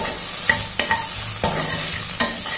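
Onions sizzle steadily, sautéing in a hot pan while a spatula scrapes and stirs in a few sharp clacks.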